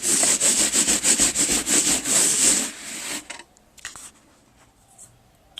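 Hawaiian kapa bark cloth rubbed side to side, giving about a dozen rhythmic, loud, close scratchy strokes that stop abruptly, followed by near silence with a few faint taps.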